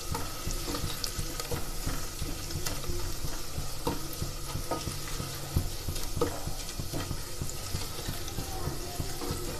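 Food browning as it fries in a pan for aloo lobia, a continuous sizzle with frequent light clinks and stirring scrapes, some watery hiss underneath, no talking.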